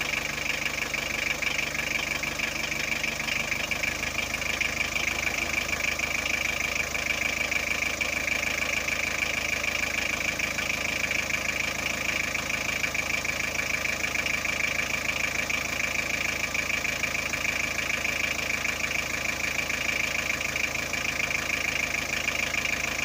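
A car engine idling steadily and close by, a continuous even drone with a mechanical ticking texture and a high whine that holds unchanged throughout; the car has a battery warning light and dimming lights.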